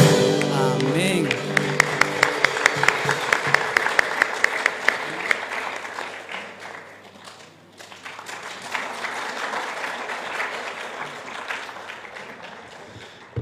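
A church congregation at a Bible seminar applauds for the Lord, a broad wash of clapping that swells early, dips briefly midway, then picks up again, with voices mixed in at the start.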